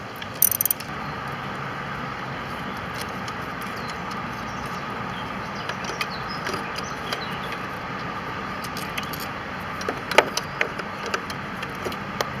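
A ratchet wrench with an extension works bolts loose on the EGR valve of a Renault Espace 3 2.2 dCi, giving a steady run of small clicking pawl ticks with a few sharper metallic knocks near the end, close by and fairly quiet.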